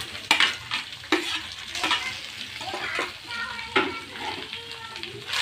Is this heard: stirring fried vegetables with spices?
yes